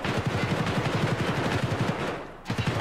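An RPK machine gun fires in the Arena mode of the video game Escape from Tarkov, a rapid, continuous automatic burst of loud, close shots that stops briefly near the end.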